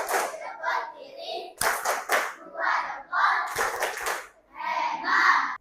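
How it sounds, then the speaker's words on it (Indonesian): A class of schoolchildren claps together in a rhythmic classroom clapping chant, with two sharp bursts of clapping between the children's loud group chanting. "Baik, kita kasih tepuk hebat ya."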